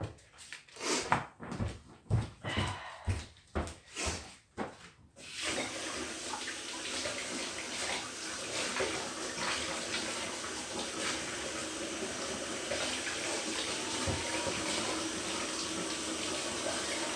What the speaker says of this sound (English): Washing the leeks, you can't see me now, can you?